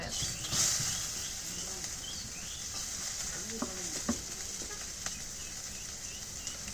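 Egg and potato frying in oil in a pan while being stirred, a steady broadband sizzle with occasional scraping clicks, fairly close and continuous, no one speaking.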